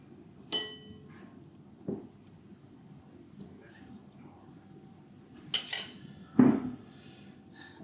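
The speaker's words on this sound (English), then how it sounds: "Our sauteed curl and our spring onions, just going to pop that down on the plate." Sporadic clinks and scrapes of cutlery against a plate as sautéed mushrooms with garlic, kale and spring onions are set down, a few sharp metallic taps spaced across a quiet kitchen.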